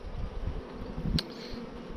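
Honey bees crowded around their queen inside a shipping package give off a steady low buzzing hum, with one brief sharper knock near the middle.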